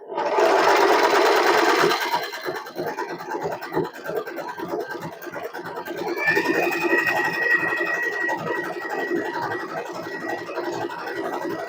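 Usha Allure DLX domestic sewing machine stitching steadily, a loud dense mechanical whir at first that settles into a continuous rapid needle rhythm with a faint high whine, running alone without talk.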